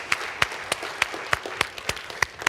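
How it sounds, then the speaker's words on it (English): Scattered applause from a gathered audience at an education innovation lab event, sharp individual claps standing out in an uneven rhythm, moderately close and with no talking over it. "Give yourselves a round of applause."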